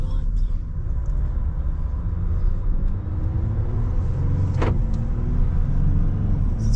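Diesel pickup truck on a test drive, a steady low engine rumble and road noise from inside the cab, with voices talking over it and a brief sharp click partway through.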